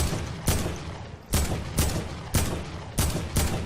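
Gunshots in the Fortnite video game ring out in six loud, sharp blasts at uneven intervals, each leaving a short decaying tail, heard alone without talk.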